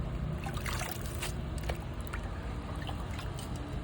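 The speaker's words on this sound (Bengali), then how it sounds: "জলটা ঢেলে দিলাম" Water used to wash leafy greens is poured out, a steady close trickle and splash running throughout with small uneven bursts, no talking over it.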